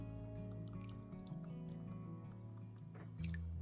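Soap-making liquid trickles down a spatula into pantry oils, giving a soft, continuous liquid pour with light dripping and a small splashy burst near the end, faint and close over a low background hum.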